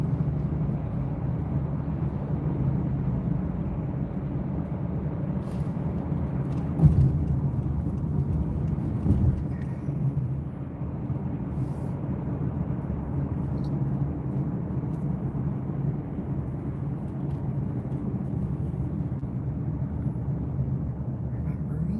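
Automatic car wash running around a car on a rural trip after rain, snow and ice: a steady, loud low roar and rumble of machinery and spraying water inside the vehicle, continuous throughout with a brief thump partway.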